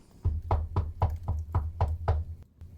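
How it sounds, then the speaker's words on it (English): Steady knocking on a wooden door, about nine even raps in quick succession, close and fairly loud with no other sound. "And they get a knock on the door."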